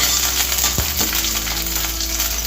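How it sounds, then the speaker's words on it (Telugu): Slit green chillies and garlic frying in hot oil, a steady bright sizzle that holds throughout, with a couple of short clinks from a utensil near the start. "ఇదంతా ఒకసారి కొంచెం ఇది ఫ్రై అవ్వాలి"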